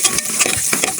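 Onions fry in a pan while being stirred, giving a brief, steady sizzle with scraping strokes close by.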